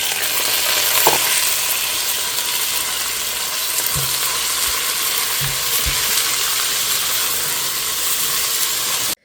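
Onions fry in hot oil in a pan over a medium flame, a dense, continuous sizzle with a few soft clicks of stirring, close and even throughout, with no talk.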